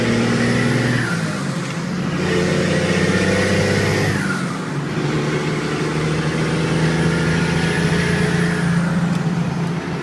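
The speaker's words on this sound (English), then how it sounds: "You can slip the throttle a little bit if you want to downshift too, just like this." A 6-speed Cummins Dodge diesel pickup engine revs and dips as the throttle is slipped during a downshift, a steady close rumble with rising and falling pitch.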